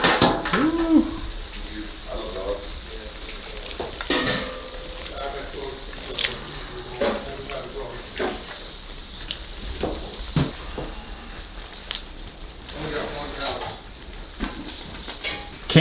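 Beans sizzling in a lidded pot at an outdoor motorcycle club benefit cookout, a steady soft frying hiss with scattered clinks of utensils and pots and voices talking in the background.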